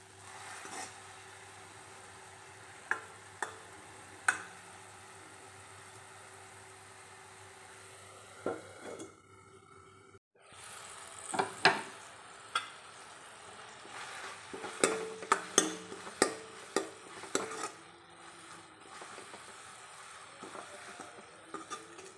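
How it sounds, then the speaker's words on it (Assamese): Drumstick flowers fry gently over low heat in a pan, giving a quiet sizzle that swells and fades with scattered crackles and stirring clicks and briefly drops out near the middle. "কম জুইত আপোনালোকে অকণমান দেৰি ভাজিব"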